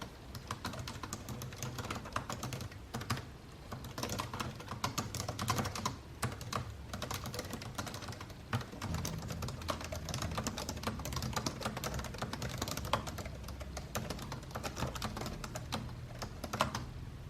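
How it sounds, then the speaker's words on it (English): Fingers type quickly and continuously on a computer keyboard while someone drafts a story, a dense, steady clatter of close key presses with brief irregular pauses and no talking. "I'm just typing and it's coming quickly"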